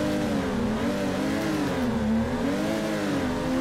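A car engine in the Torque Drift racing game revs steadily on the throttle, its pitch rising and dipping slightly in a continuous loud drone with no speech.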